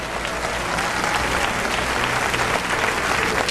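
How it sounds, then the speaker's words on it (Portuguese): Vigorous applause from a church congregation, loud and close, a thick continuous roar of clapping hands that holds steady throughout with no voices. "Aplausos para Deus!"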